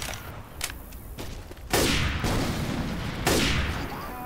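Gunfire in Left 4 Dead 2 during the Parish campaign, two loud broadband bursts of shots at close range following lighter earlier pops, with continuous noisy battle sound between them.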